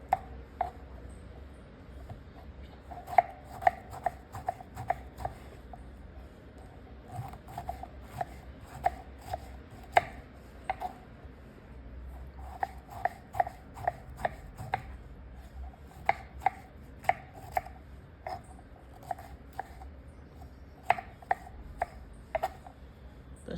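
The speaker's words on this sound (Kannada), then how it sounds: "ಫಸ್ಟು ಈ ಥರ ಸಣ್ಣ ಕಟ್ ಮಾಡಿ ರೆಡಿ ಮಾಡ್ಕೊಳ್ಳಿ" A knife chopping ridge gourd into small pieces on a board, sharp quick taps in irregular bursts over a quiet kitchen background, with no speech.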